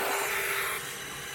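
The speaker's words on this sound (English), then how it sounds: "let's just use the vac and get rid of this water." A Ryobi ONE+ 18-volt 1-gallon wet/dry vacuum hisses loudly as it sucks up water, the airy roar easing slightly in pitch and level partway through.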